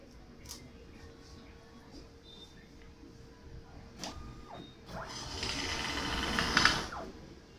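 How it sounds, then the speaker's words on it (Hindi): A thermal receipt and label printer printing a bill, with a faint mechanism click and a brief motor tone, then a louder buzzing feed and paper tear about two seconds long, close by. "इतनी तेजी से ये जो रिसिप्ट होती है वो भी प्रिंट हो जाता है"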